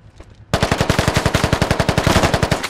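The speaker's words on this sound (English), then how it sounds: "Pre-firing the corner like a boss." Sustained automatic gunfire in the game Squad as a corner is pre-fired, a rapid, even burst of about twenty loud close shots starting abruptly after a brief quieter moment and running without pause.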